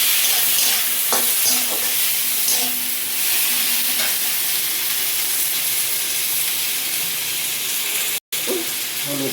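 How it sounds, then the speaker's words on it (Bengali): Masala with tomato and green chillies sautés in a pan for a Bengali fish tok, giving a steady, loud sizzle and hiss with occasional stirring scrapes and no talk. "এই যে টমেটোটা দিয়ে দিলাম, কাঁচা লঙ্কাগুলো দিয়ে দিলাম, দিয়ে এবার আমি মশলাটাকে সুন্দর করে কষে নেব।"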